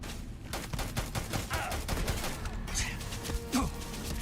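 Turret gunfire in the Starfield video game, a fast stream of rapid automatic shots at moderate loudness, steady and continuous, with a voice briefly heard over it.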